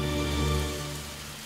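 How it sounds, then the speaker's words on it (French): Rain falling steadily in a children's cartoon, a continuous soft hiss of drops with a low hum beneath, fading slightly toward the end, no voices. "Oh, il pleut."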